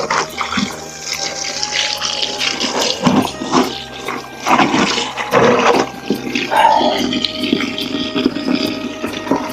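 Water poured out onto a sun-heated floor to cool it, splashing and gushing in uneven bursts at close range, with a few brief clatters between pours.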